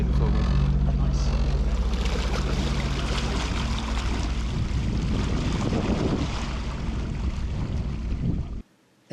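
A jet ski engine runs in forward on a large lake, a loud, continuous close roar with wind rushing over the microphone, cutting off abruptly at the end.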